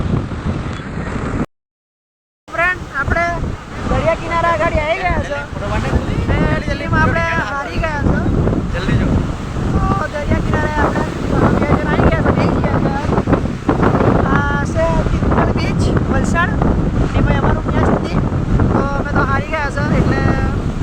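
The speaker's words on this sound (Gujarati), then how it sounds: "ફ્રેન્ડ આપણે દરિયા કિનારા આગળ આવી ગયા છે." Strong wind buffets the microphone at a seashore in Gujarat, with waves washing in beneath a loud, continuous roar; people talk over it, and the sound cuts out completely for about a second near the start.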